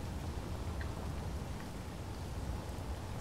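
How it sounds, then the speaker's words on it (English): Steady rain in the video game Space Engineers hisses continuously, a dense wash of falling drops with no voices over it. "and it's raining. It's raining here."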